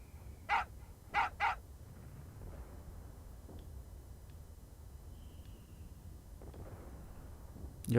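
Dog barking in the Final Fantasy VIII video game: three short, sharp barks early on, one single then a quick pair, followed by quiet background ambience and a sudden burst at the very end.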